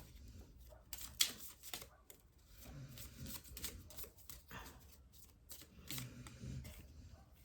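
Small tarot cards shuffled by hand, a soft papery riffling and slapping that runs in quiet bursts throughout, close and low in level with faint background noise.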